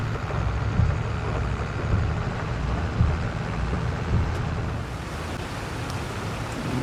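Steady rain falls on a farm in Farming Simulator 22, a broad continuous hiss mixed with a low engine rumble from a nearby tractor, with no voices.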